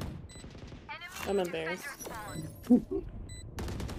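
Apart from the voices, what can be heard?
gunfire from a video game shooter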